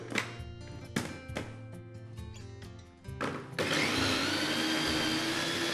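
A blender blends tomato sauce with parsley, lemon juice and seasoning, a steady loud whirring roar that starts abruptly after a few knocks and clatters and keeps going to the end.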